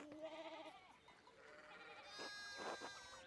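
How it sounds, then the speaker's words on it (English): Sheep bleat in the video game Pentiment at a farm with a broken fence rail, giving a few faint, wavering calls, one early and a longer cluster near the end, over low ambient background. "One of the fence rails fell and the sheep started hopping it."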